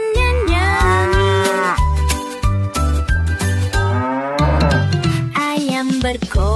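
Cow-like mooing calls sound over a bright, jingly musical backing, repeating in a sing-song rhythm, loud and close.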